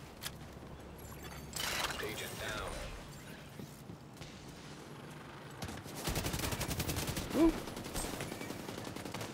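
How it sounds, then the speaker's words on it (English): Shotgun blasts and gunfire in The Division 2 during a firefight, with sharp loud bursts near the end amid clattering mechanical game sounds and background noise. "That was a shotgun."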